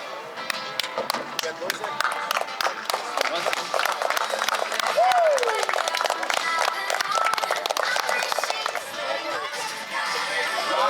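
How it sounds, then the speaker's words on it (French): Crowd applauding at a roping ranch event during an Easter weekend gathering, steady clapping and cheering from a sizeable audience running the whole stretch, with a whistle rising briefly in the middle and a voice talking over it. "Et le vieux là, vous pouvez l'applaudir"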